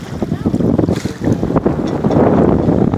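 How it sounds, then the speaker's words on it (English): A sailboat cruising on Lake Pend Oreille, Idaho on a windy day, with heavy gusting wind buffeting the microphone, water sloshing against the hull and a few faint knocks throughout. "Sailing on Lake Pend Oreille."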